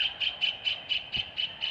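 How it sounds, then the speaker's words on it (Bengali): Birds in a zoo give a rapid run of repeated high squawking calls, about eight evenly spaced bursts in under two seconds, loud and fairly close against a quiet background with no talking. "চারিদিকে পাখির কোলাহল।"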